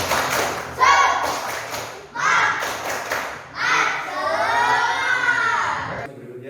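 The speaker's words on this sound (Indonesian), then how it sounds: "Baik anak-anak semuanya, tepuk dengan semangat, tepuk semangat." Schoolchildren in a classroom perform the rhythmic spirit clap, bursts of patterned clapping alternating with loud chanted children's voices in several rounds, ending abruptly.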